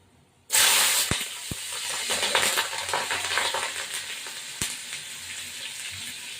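Green chillies hit hot oil with a sudden loud sizzle, then a steady close hissing fry with crackles and a few sharp pops, continuing alone without talk.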